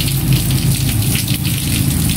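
Light rain drizzles steadily outdoors in the Philippines, a dense even patter with a low rumble underneath and no voices.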